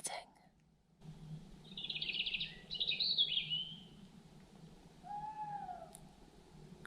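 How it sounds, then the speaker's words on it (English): An owl calls before sunrise in the early spring morning: a faint, distant wavering call rises and falls a few times outdoors, with a brief thump at the start and quiet surroundings. "Did you hear that owl?"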